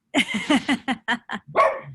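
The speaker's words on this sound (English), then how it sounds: "I knew we weren't going to get through our interview without Richard barking." A dog barks in a quick burst of about seven sharp, close barks with a short gap before the last one, loud and clear with no talk over it.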